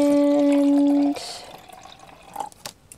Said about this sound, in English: I'm gonna pour this dirty water into my other dirty water cup